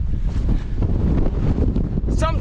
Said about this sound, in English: Right now, being hit with gusts well above 50.